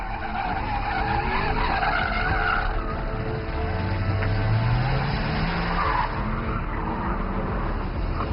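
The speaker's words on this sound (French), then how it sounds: "Une caravane, une Vauxhall VX R8 et The Stig au volant, quelques explosifs et vous obtenez une vidéo très festive tout en finesse." A Vauxhall VXR8 driven by The Stig skids in a long, continuous tire squeal with the engine roaring underneath, loud and close throughout.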